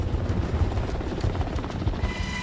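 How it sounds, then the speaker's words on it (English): Steady, loud thudding rotor noise of a helicopter in flight, a continuous low throb heard from inside or close by. "we were soon in the helicopter on our way to the start of this important rescue mission"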